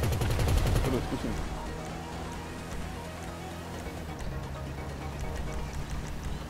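Rapid automatic gunfire rattles loudly from a heist mission in Grand Theft Auto V, a dense burst at the start that fades into a continuous crackling, rumbling battle din.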